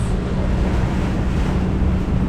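Strong wind off Ikaria, Greece, buffets the microphone aboard a sailboat in a steady, roaring rush with a deep low rumble, loud and constant throughout with no voices.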